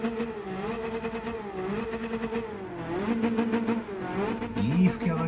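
A Honda Beat fitted with a sports muffler revs in Gran Turismo 7, its small engine note rising and falling through several throttle blips, steady and close, ending with a sharper rev.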